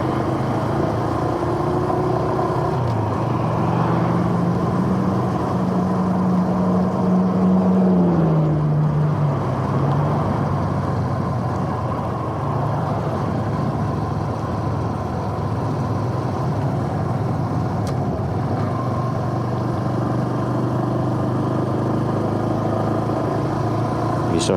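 Small Honda Super Cub motorcycles ride along a road in steady drizzle, a continuous engine drone with a gear change partway through, close and fairly loud with no talk over it.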